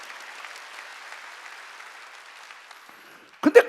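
Congregation applauding during a Wednesday church service, a faint, steady patter of clapping that ends in a brief, louder burst.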